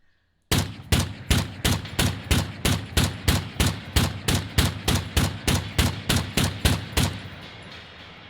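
Operator SR-25 rifle fired at long range, about twenty-two loud, evenly spaced shots in a steady rapid rhythm, each sharp crack followed by a short echoing tail, with no talking.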